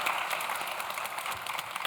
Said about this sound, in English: Another round of applause for WorkRamp.